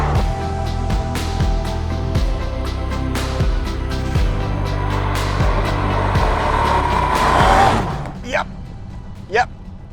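A 2022 Bentley Continental GT Speed with a 6-litre W12 accelerates hard in a loud, continuous rising roar with gear-change steps, close and dominant, then cuts off near the end, leaving only brief fading whooshes.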